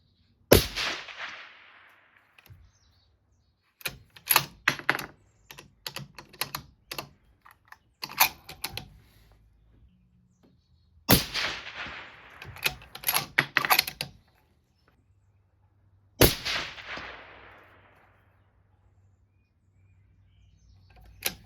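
Three sharp rifle shots from a .25 Creedmoor on a 200-yard test range, spaced several seconds apart, each a loud crack with a fading tail, separated by bursts of nearby clicking and handling noise.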